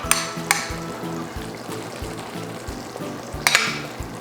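Salmon fries in a pan of creamy garlic Tuscan sauce, giving a steady close sizzle with a few sharp utensil clacks against the pan.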